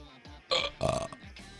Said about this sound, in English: Why did I burp?